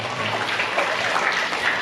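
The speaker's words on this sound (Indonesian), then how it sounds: "Tepuk tangan sekali lagi untuk beliau." Audience applause at a literary seminar and launch of a poetry and short-story anthology, a steady dense patter of many hands clapping continuously throughout, fairly loud and close.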